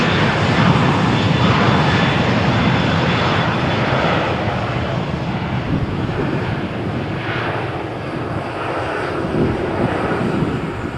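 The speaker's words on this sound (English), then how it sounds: "Rolling takeoff for Transavia flight to Paris" A Transavia jet airliner makes a rolling takeoff at Malaga Airport on a stormy morning, its engines producing a loud, sustained broadband roar that holds steady across the whole stretch, close and dominant.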